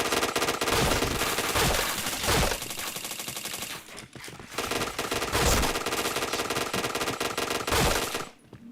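Rapid automatic gunfire in the shooter game Point Blank, dense bursts of shots crowding together loudly for several seconds with a brief lull near the middle before the firing resumes.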